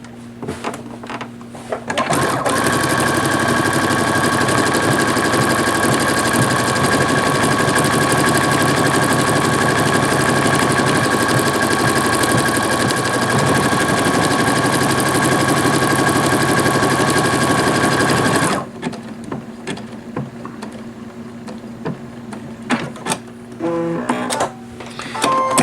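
A sewing machine stitches a buttonhole in one loud, continuous whirring run of about sixteen seconds, then stops, leaving quieter handling sounds behind.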